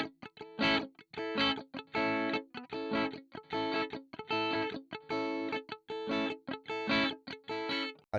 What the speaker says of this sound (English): a soca style strum would sound more like this